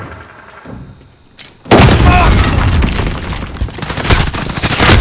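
An airstrike in Call of Duty Modern Warfare hits the St Petrograd map after a quiet stretch, a sudden loud crashing blast followed by sustained rumbling explosions and gunfire.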